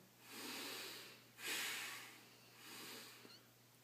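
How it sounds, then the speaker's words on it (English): Deep, audible breaths drawn in before a goblet squat, three slow airy swells with the middle one strongest, close and fairly quiet over a faint steady hum. "So I'm going to breathe in."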